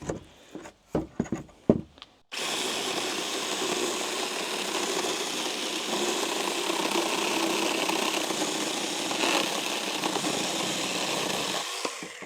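A Chinese cordless battery chainsaw comes to life after a few handling clicks and knocks, then runs in a steady, high whining buzz nearby for about ten seconds with no talk.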